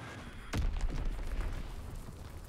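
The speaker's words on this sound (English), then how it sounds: "Enemy bomb incoming." A bomb explodes in a multiplayer war video game, one sharp, loud blast that rolls into a long, rumbling decay with no talk over it.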